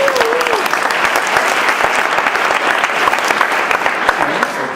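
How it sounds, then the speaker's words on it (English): A room full of people giving a hearty round of applause, loud dense clapping that holds steady from start to finish, with a brief voice at the very beginning. "then let's hear a round of applause for that"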